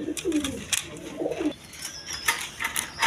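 Indian Bombay pigeons, a black pair, cooing in a loft: several rolling low coos in the first half, then quieter chirps and faint rustles.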